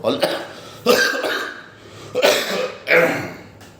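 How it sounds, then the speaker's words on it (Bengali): Several harsh coughs come in separate bursts, close and loud, spaced about a second apart with quiet pauses between. "জোর কাশি লেগেছে, খুব ডিস্টার্ব হচ্ছে।"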